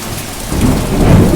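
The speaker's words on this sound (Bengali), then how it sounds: "আকাশ ডাকছে কি" Heavy rain pours steadily and close by during a monsoon downpour, with a low rumble of thunder swelling beneath it and growing louder toward the end.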